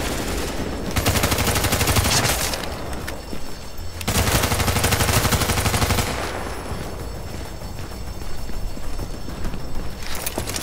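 Video game gunfire crackles in long rapid bursts, loud and dense, with a short pause between volleys.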